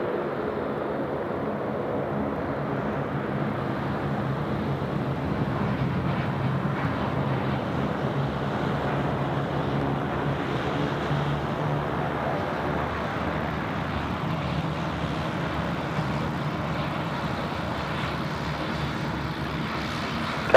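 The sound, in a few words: Philippine Airlines airliner at Sydney Airport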